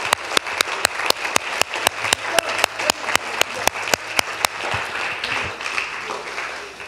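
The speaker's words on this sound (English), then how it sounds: "let's give him a round of applause" Applause from a church congregation, led by loud, evenly paced claps from a single nearby person over softer crowd clapping, which continues as a wash after the rhythmic claps stop.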